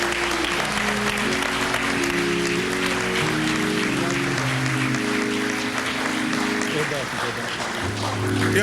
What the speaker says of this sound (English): Y'all, please give his family another round of applause.